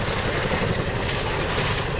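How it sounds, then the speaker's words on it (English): A military battlefield helicopter manoeuvres at an RAF air show, its rotor and turbine roar a loud, steady wash of noise with no talking. "as you can see it's still highly manoeuvrable, making it an ideal battlefield helicopter"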